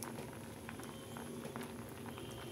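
Okra (ladies finger) cooking in a pot of boiling water, a dense continuous bubbling and popping that stays steady and close for the whole short stretch.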